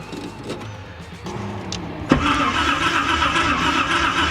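A truck engine, freshly swapped in after a roadside breakdown, cranks briefly and catches at about two seconds, then settles into a steady, even idle that runs loud and close to the end.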